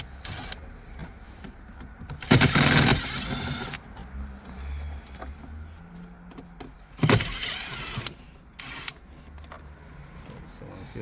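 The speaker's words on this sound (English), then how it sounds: "and we can remove the radio" Plastic trim and the radio unit come out of a 2015 Nissan Rogue dashboard, with two bursts of close rattling and scraping set against a quiet cabin while someone speaks.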